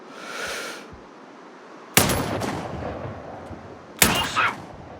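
Two sharp, loud sniper rifle shots in Sniper Ghost Warrior Contracts, about two seconds apart, each with a ringing tail over a quiet ambient background.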